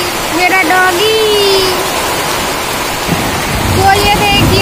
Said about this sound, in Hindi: ये देखिए इतना तेज तेज बारिश हो रहा है